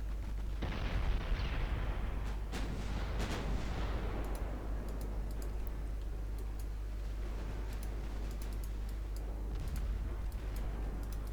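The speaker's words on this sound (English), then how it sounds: "the 6-inch secondaries on Harald Haarfagre are opening up" Six-inch secondary guns of the ship Harald Haarfagre fire in a naval warfare game, a loud boom early on followed by repeated sharp reports that trail into a rumbling, rolling background of distant gunfire.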